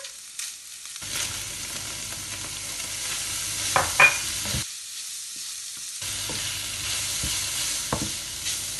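Ground meat filling for brick cigars frying in a pan as spices are stirred in, a steady close sizzle broken by scraping spatula strokes, with brief near-silent gaps where the pan goes quiet.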